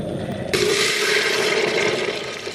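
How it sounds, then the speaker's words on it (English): Boiling water pours into a pasta pot in a steady rushing gush that starts suddenly and keeps going for about two seconds, close and fairly loud. "pour your boiling water in your pot"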